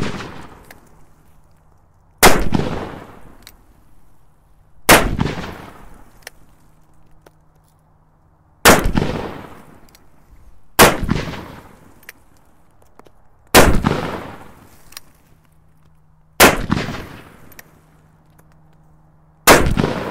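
Two 500 Bushwhacker guns fire at pumpkins outdoors, eight sharp, loud gunshots spaced roughly two to three seconds apart, each followed by a short decaying echo over a faint steady low hum.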